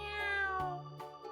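A kitten meows twice in quick succession, close and clear, with a pitched, slightly falling cry and a shorter second call, with no voices.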